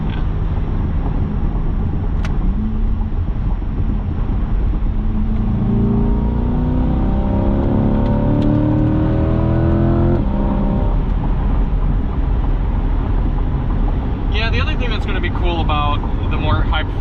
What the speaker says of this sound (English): This is what the Corvette sounds like on the highway at 55